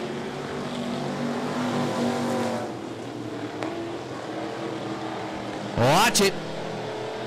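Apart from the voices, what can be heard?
race cars racing on track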